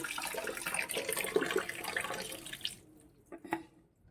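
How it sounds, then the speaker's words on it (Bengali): Water gushing hard from a timed municipal tap, a loud steady rush that cuts off abruptly partway through, followed by a few faint splashes and drips. "জল পড়ে পুরো এদিকে ভরে যাচ্ছে"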